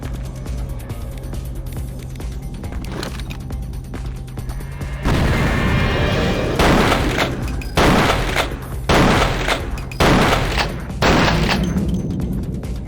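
Rapid-fire gunshots in Vampire the Masquerade: Bloodlines come in loud repeated bursts, several separate volleys of booming fire following a quieter stretch of game sound.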